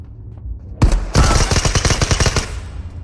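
Rapid gunfire in a multiplayer shooter game set on a merchant ship: a single loud shot, a brief pause, then a sustained burst of automatic fire with closely spaced cracks, close and punchy, with no talking.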